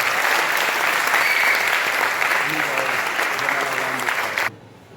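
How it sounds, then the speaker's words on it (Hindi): A mushaira audience gives loud, thick applause welcoming the poet Shakeel Azmi, continuous for several seconds before it cuts off abruptly near the end. "जोरदार तालियों में इस्तकबाल कीजिए जनाब शकील आजमी का"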